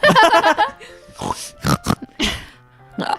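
A person imitates a pig, letting out a quick run of harsh, nasal oinks and snorts, close and loud, followed by short grunting bursts.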